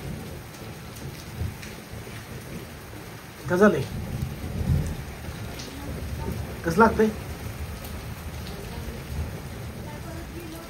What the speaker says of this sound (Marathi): आणि बाहेर खूप पाऊस पडतोय.